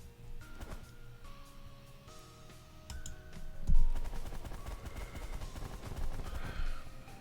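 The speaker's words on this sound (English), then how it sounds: "Shoot at it." In the space strategy game The Last Federation, ships fire on a target in rapid bursts of crisp electronic shots over tonal music, the firing growing denser and louder partway through.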